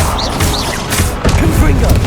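A Confringo blasting spell going off in Hogwarts Legacy during a boss battle, giving loud booming blasts over battle noise, with a voice shouting over it.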